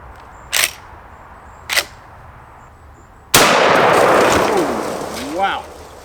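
A 30-30 Winchester rifle fires once at a meat target 10 yards away: one loud, sharp close blast with a ringing decay. Two short clicks of handling come before it, and a faint voice follows the shot.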